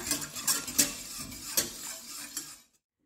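Agar-agar pudding mixture being stirred in a pot, spoon scraping and clinking against the metal in a quick irregular rhythm, close and moderately loud, stopping abruptly near the end.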